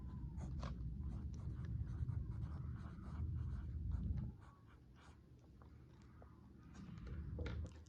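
Notes being handwritten with a pen or pencil on paper, giving soft, close scratching strokes in short bursts over a low background rumble, with no talk.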